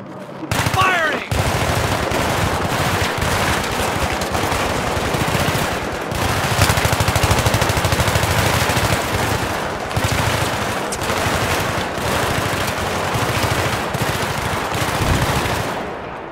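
Sustained automatic gunfire in the Battlefield 3 war game, dense rapid machine-gun bursts that run almost unbroken and loud for over fifteen seconds, with a brief gap near the start.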